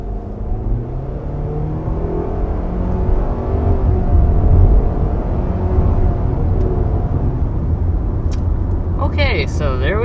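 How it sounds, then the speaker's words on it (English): A 2022 Mitsubishi Outlander accelerates up to 60 mph, its steady engine drone and road rumble rising with strong, continuous low whir, with brief faint clicks near the end. "there we are, up to 60 miles per hour with this 2022 Mitsubishi Outlander"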